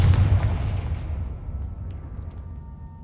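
A Confringo blasting spell in the Hogwarts Legacy game bursts into a heavy, rumbling explosion that starts loud and close, then rolls off and decays over a few seconds.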